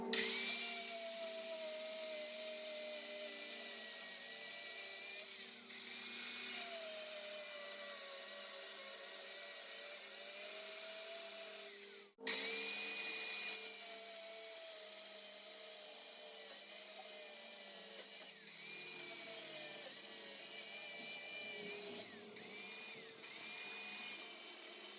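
A cutting tool grinds through the old rear shock absorber bolts on a 1949-1953 Ford, a steady close-up whine that holds for long stretches, breaks off once sharply midway, then resumes with a few brief pauses.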